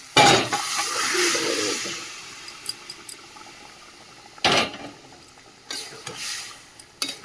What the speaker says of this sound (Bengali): চলো মশলা থেকে কষিয়ে নিয়েছি, তেলও ছেড়ে গেছে মশলা দিয়ে।